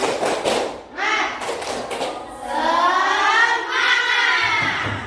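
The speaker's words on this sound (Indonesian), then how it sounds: "Tepuk semangat." A standing classroom of students performs the rhythmic 'tepuk semangat' clap, with loud patterned thuds and claps mixed with chanting voices.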